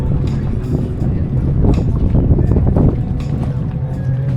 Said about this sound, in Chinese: 那边有钓鱼的船，那个小船可能是海上的 taxi